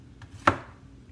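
A knife cuts once through a green pepper on a cutting board, giving a single sharp, close chop with a faint tap just before it and quiet surroundings after.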